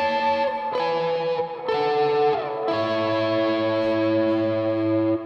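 Electric guitar plays the lead riff from a song through effects: sustained, distorted, chorus-washed notes step downward and ring out into a long held tone, close and solo with no voices.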